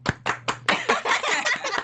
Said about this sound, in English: I didn't realize that was going to be a clapping moment.